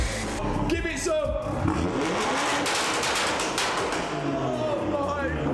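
A tuned BMW M140i revs hard and loud, its engine note climbing and falling in rough surges with thumps and crackles, while people talk and exclaim over it.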